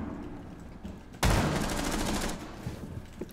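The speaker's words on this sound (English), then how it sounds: "He's trying to shotgun his way in." Shotgun fire in Rainbow Six Siege, an online tactical shooter, comes as a sudden loud blast that opens a dense burst of rapid gunfire lasting about a second, then fades into quieter room tones and scattered small clatters.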